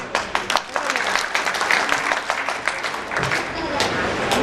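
An audience at an award ceremony applauds, with sharp individual claps standing out over a busy crowd patter and some voices mixed in, fairly loud and sustained.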